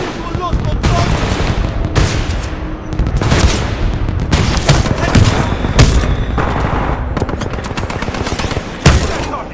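Dense, loud Titanfall 2 battle: rapid overlapping bursts of automatic gunfire and heavy booms run almost continuously, with a voice calling out over the shooting.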